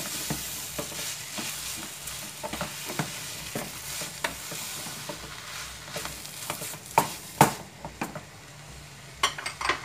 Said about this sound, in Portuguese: Agora vou pegar uma colher de pau, fica melhor pra mim. Vamos agora mexer.